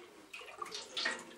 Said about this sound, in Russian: Просто я наливаю воды.